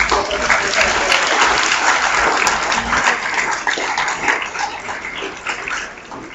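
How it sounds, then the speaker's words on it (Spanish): An audience at a solid-waste forum keeps up a dense, steady round of clapping that fades gradually toward the end, with no one speaking over it. "Y el aplauso para todos, ¿verdad?"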